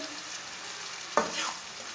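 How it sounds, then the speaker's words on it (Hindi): Ground spices such as dried coriander and whole cumin are stirred and fried in a pan over medium heat for an egg and green pea curry, a soft steady sizzle with one brief spoon scrape, close and quiet. "अभी इसे 3 मिनट के लिए भून लेंगे। इसे मीडियम आंच पर ना चम्मच चलाते हुए भूनना"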